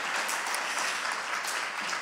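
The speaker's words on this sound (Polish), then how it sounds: "Brawa za to." Audience applause at a carol concert of borderland carols in Ziębice, a dense steady clapping that fills the hall evenly from start to finish with no voices over it.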